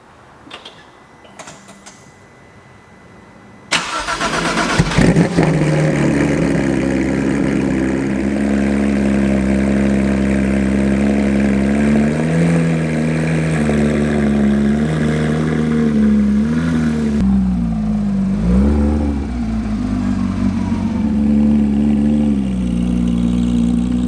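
A Porsche 991.2 GT3 RS fires up after a few seconds of quiet and keeps running loud and close, its engine droning steadily with small rev changes as the car drives into a shop.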